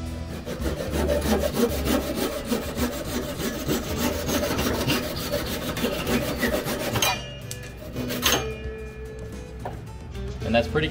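Hand saw cutting through the end of a wooden barrel wedge, steady back-and-forth strokes close up for about seven seconds, then stopping with a few bumps and knocks.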